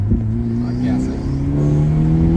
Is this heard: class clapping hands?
no